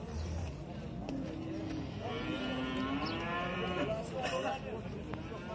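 Cows lowing at a busy livestock market in Yaypan, Uzbekistan, with a long drawn-out moo rising over crowd murmur and nearby chatter, while people talk throughout.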